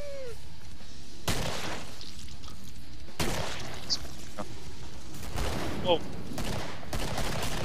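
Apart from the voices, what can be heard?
gunfire in video game Killing Floor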